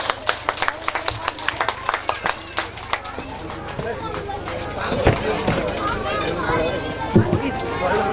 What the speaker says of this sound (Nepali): दानदाता सबैको सुस्वास्थ्य समृद्धि प्रगति दीर्घायु उन्नति सम्मानका लागि जोरदार ताली दिनुहोस्